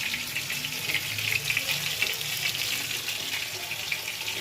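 A spice paste of cumin, ginger, poppy seed and dried red chilli sautés in a pan, giving a soft, steady sizzle with light stirring, close and fairly quiet, with no voices.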